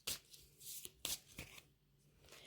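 Tarot cards drawn and shuffled close by, a few quick papery flicks and slaps in short bursts against a quiet background.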